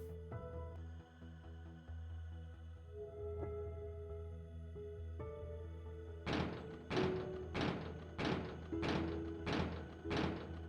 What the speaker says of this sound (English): I'm definitely noticing out here banging on these pieces of metal